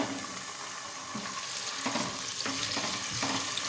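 Chicken frying in a pan over lightly golden onions for arvi (colocasia) chicken salan, a dense near sizzle with occasional stirring scrapes and no voice.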